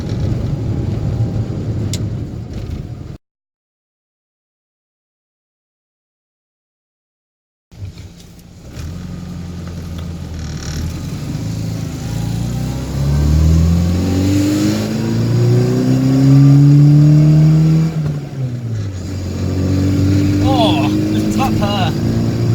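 A classic Mini's small, warmed-up engine idles and revs, its pitch rising and falling in long sweeps, with someone talking over the engine noise throughout.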